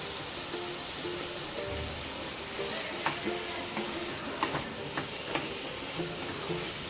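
Paneer bhurji with onion, tomato and spices being stirred in a pan after salt goes in, a steady low sizzle with soft scraping strokes and light ticks of the spatula throughout, no one talking.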